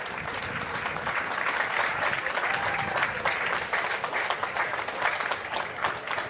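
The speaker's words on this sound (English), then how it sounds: "she's applauded off." Crowd applause at a women's football match, Australia versus Japan at the IFCPF Women's Asia-Oceania Championships, as an injured player leaves the pitch; steady sustained clapping with faint voices mixed in.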